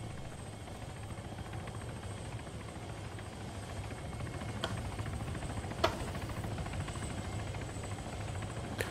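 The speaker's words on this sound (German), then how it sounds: "Also bei uns sitzt auch gerade ein Heli" A helicopter in the video game Arma 3, a steady low rotor drone and engine hum held at a moderate distance, with a couple of brief sharp clicks partway through.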